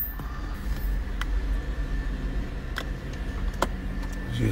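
Steady low rumble of a car driving, a continuous road and engine drone heard from inside with occasional faint clicks, no talking.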